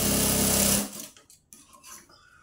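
A sewing machine stitches a katori blouse, running in a loud, rapid mechanical whir for under a second before stopping abruptly, followed by a few soft handling clicks and rustles of fabric.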